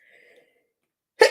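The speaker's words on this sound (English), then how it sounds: "We gotta sneeze too." A single sharp sneeze bursts out at the end, loud and close, after a brief faint murmur and near silence.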